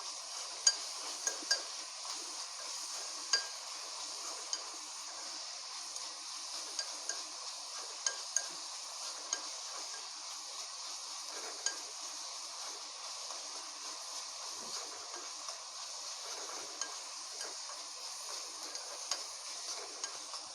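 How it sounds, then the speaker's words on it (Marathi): Onion and garlic frying in a pan while being stirred, a steady low hiss of sizzling oil with scattered light clicks and scrapes from the spoon, fairly quiet and without speech. "कांदा एकसारखा हलवत राहायचा आहे जेणेकरून तो इक्वली फ्राय होईल"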